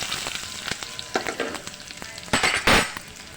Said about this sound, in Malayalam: കടുക് പൊട്ടി അതിലേക്ക് അരിഞ്ഞു വെച്ചിരിക്കുന്ന ഉള്ളിയും മുളകും ഇട്ട് കൊടുക്കാം